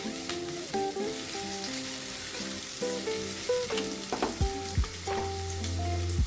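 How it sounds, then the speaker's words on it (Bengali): Egg chowmein ingredients stir-fried in a pan, with a steady sizzle, repeated scraping and clanking of the utensil against the pan, and no talk. "সমস্ত উপকরণ একবার নাড়াচাড়া করে নেব দশ সেকেন্ড এইভাবে ভাজার পর"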